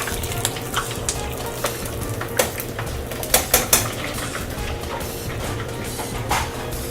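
Plantains sizzle steadily as they fry in a pan of vegetable oil, with scattered clicks and scrapes from stirring and a few louder knocks of utensil against pan.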